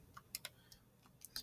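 Light plastic key presses on a graphing calculator, a few soft irregular clicks close by in a quiet room.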